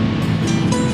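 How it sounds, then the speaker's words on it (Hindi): Stormy sea surf at French Beach in Karachi, a dense, steady roar of breaking waves that fills the whole second, with wind noise mixed in and no clear pauses. "समंदर का तूफान, तूफानी लहरें"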